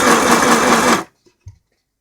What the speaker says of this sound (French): Alors là, ça coud cette fois.